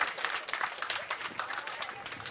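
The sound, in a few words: audience applause at retirement ceremony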